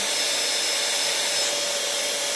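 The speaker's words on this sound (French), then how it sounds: "Vous voyez la puissance du sèche-cheveux quand même." Air styler hair dryer blowing at full power, a steady loud whoosh of airflow with a faint high motor whine, continuous and close up with no voices.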